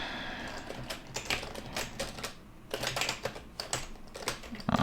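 Steady clatter of typing on a computer keyboard with an unfamiliar key layout, bursts of quick close keystrokes with brief pauses between runs, no voices.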